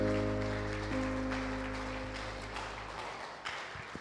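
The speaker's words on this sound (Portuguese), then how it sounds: "aplauda o Senhor Jesus" A church congregation claps during a worship service while a sustained keyboard chord rings and fades underneath. The clapping is moderately quiet and scattered, thinning out as the music dies away.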